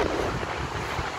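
Strong wind buffets the microphone outdoors where a kite is being flown, making a steady loud rumbling roar with no talk.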